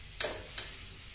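Ghee hits a hot pan for a methi matar malai sabzi, giving a quiet steady sizzle with two sharp clinks of a spoon close by.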